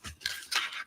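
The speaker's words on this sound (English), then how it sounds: "let's just use scissors for this because I think it'll be easier than the knife in this situation. I'll use some cardboard scissors." Cardboard scissors snip through cardboard in two quick, fairly quiet crunching cuts, heard close up with no talking.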